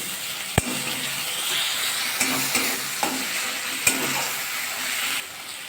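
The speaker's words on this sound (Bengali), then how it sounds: "আদা রসুন আদা দিয়ে দেবো একটু ভাজা করে নেবো" Onion, ginger and garlic sizzle steadily in hot oil for a shrimp and pointed gourd curry, with a few sharp clicks of a spoon stirring against the pan.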